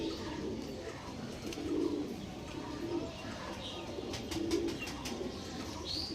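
Kalanka pigeons coo in low, soft repeated phrases, several birds close by, with faint chirps and background noise throughout.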